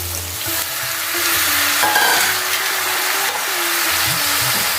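Eggplant and other vegetables sizzle steadily in a hot pan while stirred and scraped, the frying hiss loud and constant throughout.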